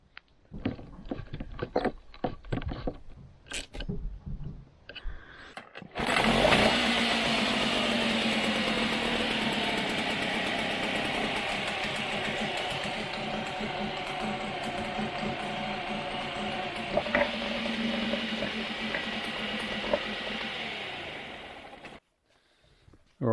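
A salvaged outboard engine from a sunken boat runs steadily for about sixteen seconds after a few seconds of clatter, pumping cooling water with a loud, continuous buzzing drone before it cuts off abruptly.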